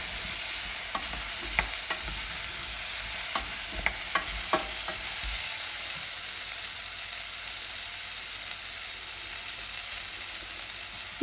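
Apple compote with cinnamon being stirred in a pan over lowered heat, with soft scraping strokes and light clicks of the spoon over a steady low sizzle; the stirring fades after a few seconds, leaving the gentle simmer alone.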